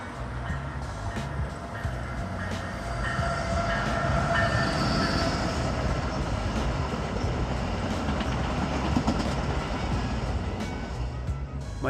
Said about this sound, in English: I finally saw that same Venture unit one more time heading east towards Montreal